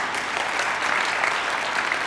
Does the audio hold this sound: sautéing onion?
no